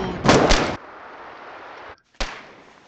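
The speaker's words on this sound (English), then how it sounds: "Machine guns." Machine gun fire in the Foxhole war game: a loud, close double burst of shots, then a lingering rumble and a sharp single blast near the end, with no talk.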